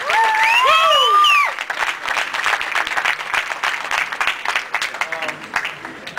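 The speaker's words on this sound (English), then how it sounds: "A round of applause for your lightweight champion, David Diaz" Loud crowd applause and cheering at a post-fight press conference fill the space, with a shouted voice riding over the opening second before the clapping continues steadily.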